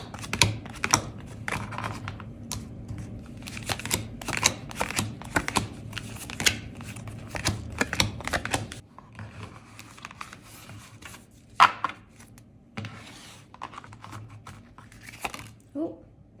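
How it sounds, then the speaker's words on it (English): Tarot cards are shuffled by hand in rapid, crisp bursts of riffling and flicking, close and clear, growing sparser partway through and ending with a few isolated taps and shuffles. "Let me shake these about. Let me shuffle these about"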